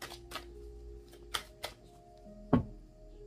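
Playing cards shuffled before a card draw, a few quick riffling flutters and a sharper snap near the end, close and fairly quiet with no talking.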